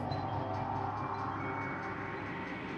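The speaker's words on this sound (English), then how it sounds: "You watch the train go by." A train rolls past a forest-ringed station in an indie horror video game, a steady, loud rumble of wheels and carriages that holds evenly throughout with no pause.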